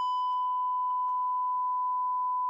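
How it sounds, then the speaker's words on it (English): A steady censor bleep, a pure electronic tone held almost unbroken for a couple of seconds, with faint muffled talk and a few short bumps underneath. "I was trying to beep it out for you."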